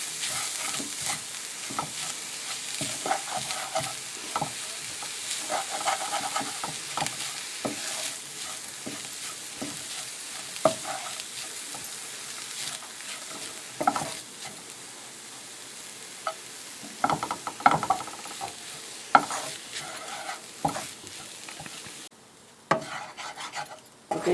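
Grated coconut stirred and roasted on low flame in a pan for fish varai, a steady scraping of the spoon against the pan with soft sizzling and irregular louder scrapes.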